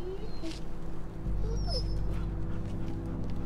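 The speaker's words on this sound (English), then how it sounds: "It's the Hortons' dog. It's not gonna make it" An injured dog whimpers faintly with brief high whines over a low steady hum, close by but quiet, with little else happening.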